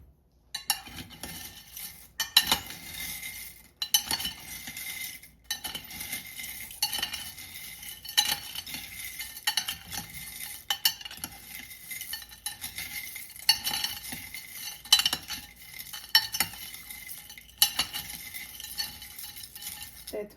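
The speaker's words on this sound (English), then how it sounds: "Now I'm gonna mix them all together." A utensil stirs and mixes ingredients in a bowl, giving repeated scraping strokes and sharp metallic clinks in an uneven rhythm, close and fairly quiet with no talking.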